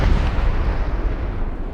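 Cannon artillery fire from the Napoleon Total War game, heard as a dense, loud, continuous rumbling barrage of booms with no distinct gaps and no voices.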